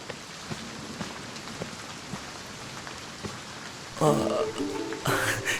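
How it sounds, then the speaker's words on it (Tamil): Heavy rain pours in a steady hiss with scattered drops, then a voice speaks over it near the end. "என்ன இப்படி பேய் மழை பெய்யுது?"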